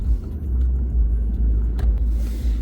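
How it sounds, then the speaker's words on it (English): Heavy road traffic in Toronto: a steady, loud low rumble of car engines passing close by, with occasional brief swells as vehicles go past, no voices. "That traffic is heavy."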